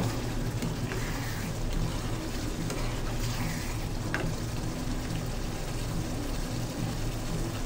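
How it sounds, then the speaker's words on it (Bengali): Chicken curry, dhaba style, being stirred in a pan just after the lid comes off: a continuous close sizzle with wet scraping and bubbling, steady and fairly loud throughout, with no voices. "ঢাকনাটি তুলে নিচ্ছি এবং কিছুক্ষণ নাড়তে থাকবো"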